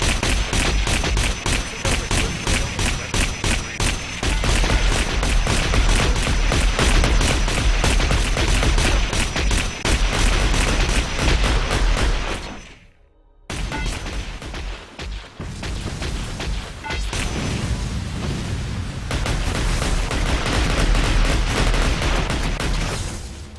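Sustained mech gunfire in the Heavy Gear Assault video game, loud rapid bursts aimed at practice bots that do not shoot back, dropping briefly to near silence midway before the shooting resumes.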